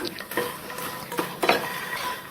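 Almonds and edible gum are stirred and roasted in a pan, with a few scattered scrapes and light metallic clinks over a soft background hiss.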